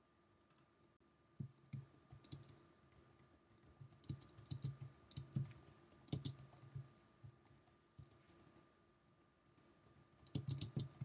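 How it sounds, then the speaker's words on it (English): Keys clatter on a Mac computer keyboard in irregular bursts of quick clicks with short pauses, close and fairly quiet, no voices. "Type your information into the first column."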